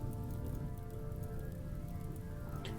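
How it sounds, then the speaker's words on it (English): Rain falling in the video game RimWorld during a foggy swamp map, a steady, even hiss of rainfall on surfaces, continuous and fairly quiet, with no voices. "we already have rain"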